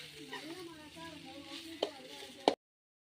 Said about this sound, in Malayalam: ഇളക്കി കൊടുക്കണം.